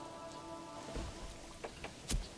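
Rain falls in the medieval city-building game Manor Lords as a faint, steady hiss with a few soft drop taps scattered through it.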